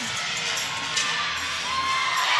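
Gymnastics teammates at a college meet cheering and shouting after a stuck landing on a routine, a dense, steady roar of excited voices that carries on throughout.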